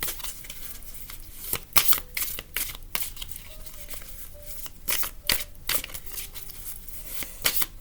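Tarot cards being shuffled by hand, soft papery riffles and slaps recurring in irregular bursts, close and moderately quiet, with a faint voice briefly underneath.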